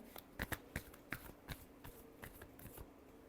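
Tarot cards shuffled by hand during a Leo reading, giving a quick run of soft, crisp papery riffles and taps, close and fairly quiet, with no voices.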